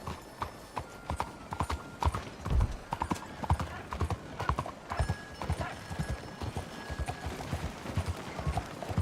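Horse hooves clip-clop at a steady trot in Red Dead Redemption 2, close and even, with faint game ambience behind.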